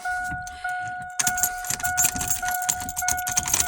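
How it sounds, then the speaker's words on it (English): Keys jangle and rattle in the ignition of a 2002 Chevrolet Silverado truck, close and crisp, in a quick burst of metallic clinks that grows busier after a short pause, with a faint steady hum underneath. "My lock is broke, but you might need to turn your key."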